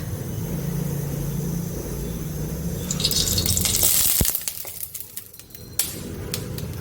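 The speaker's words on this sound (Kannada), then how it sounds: "ಇವಾಗ ಸ್ವಲ್ಪ ಎಣ್ಣೆ ಹಾಕೊಳ್ಳೋಣ" Oil poured into a very hot pan, heard as a steady rushing liquid hiss that swells into a bright burst of sizzling before easing off, with a couple of sharp knocks.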